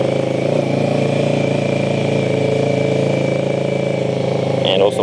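A motorcycle engine given gas to pull away uphill on a steep slope, a loud steady droning note that holds throughout, close by, with a brief rattle near the end.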